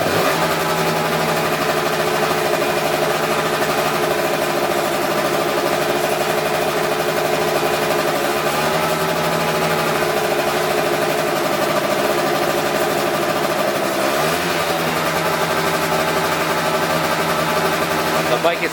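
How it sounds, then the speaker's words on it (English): A scooter engine running steadily at idle after an idle-mix screw adjustment, with a couple of brief revs lifting the pitch before it settles back, loud and close, a voice speaking over it. "Give it a little rev."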